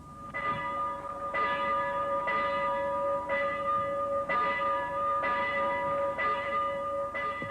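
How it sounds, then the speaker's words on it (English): A church bell tolls slowly and steadily, about once a second, each ringing strike clear against a faint background hiss, after the Newcastle earthquake. "a silence broken finally by the steady tolling of the church bell"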